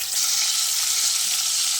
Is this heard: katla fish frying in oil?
yes